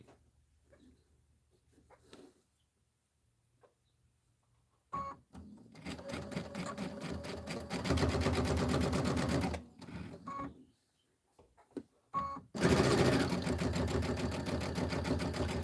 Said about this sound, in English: you can go ahead and just sew a little bit off and then slot your next piece under when the foot lifts up